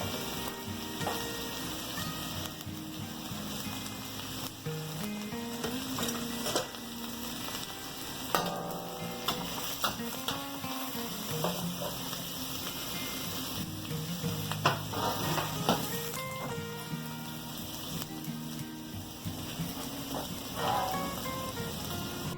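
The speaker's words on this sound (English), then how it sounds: "Now I don't want the onions to cook too much." Onions fry in an oil-filled pot on the stove, a steady close sizzle with stirring and scraping running throughout, alone and without talk.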